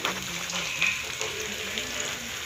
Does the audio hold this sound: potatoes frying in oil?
yes